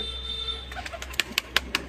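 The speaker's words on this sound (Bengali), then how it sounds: "তো গাইস বাইরে বার হয়ে আসছে এখন পায়রাটা" A pigeon coos softly nearby, a few low rounded calls following a steady background hum, then several sharp clicks or wing flaps toward the end.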